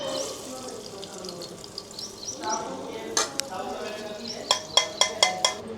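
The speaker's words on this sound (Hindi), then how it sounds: "तेल गर्म हो गया, अब डाल दिया मैंने इसमें जीरा और साथ में ही प्याज" Cumin seeds and chopped onion going into hot oil, giving a steady close sizzle with a few sharp clinks of a utensil against the pan near the end; no talking.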